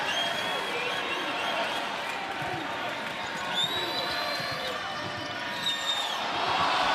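Crowd in a basketball arena during a Georgia Tech vs Wake Forest ACC men's game makes a steady, moderately distant roar, with sneaker squeaks and a few bumps rising through it.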